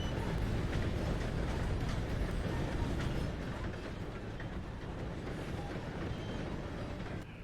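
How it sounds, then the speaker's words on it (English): A train passing in the Red Dead Redemption II video game, a steady loud rumble with rail clatter that stays close and continuous throughout, easing slightly toward the end. "Gotta beat that train, Morgan!"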